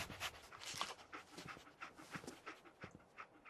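Dogmeat, the dog companion in Fallout 4, pants in quick rhythmic breaths, close and fairly soft, with short huffing bursts and no voices over it.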